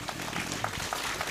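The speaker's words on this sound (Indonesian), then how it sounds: "Tepuk tangan untuk yang wildu." Applause from an audience at an Indonesian religious study gathering, honouring a painter: a dense, steady patter of clapping over 1.4 seconds with a few sharper claps, faint and slightly muffled, no clear voices.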